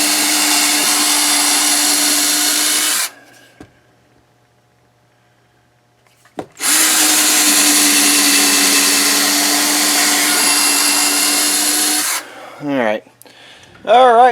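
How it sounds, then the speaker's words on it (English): An electric impact wrench runs during installation of a Fleximounts overhead garage ceiling storage rack, giving a steady, loud motor whir for about three seconds. It stops, then runs again for about six seconds, followed by brief clicks and handling noise. "we're using the electric impact wrench, and so far so good"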